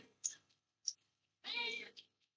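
A pet cat being fed a piece of cooked food gives a few short clicks and chirps, then one drawn-out, close, moderately loud meow near the end, in an otherwise quiet room.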